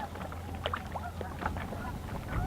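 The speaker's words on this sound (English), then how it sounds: "There were some teenage ducks splashing around and making noise as well" Young ducks quack and call softly at a distance on a lake, with faint water splashing and a low background hum.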